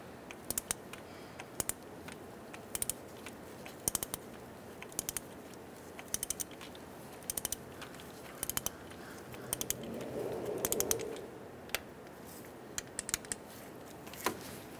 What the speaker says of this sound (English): We are going to torque this bolt to 36 foot-pounds.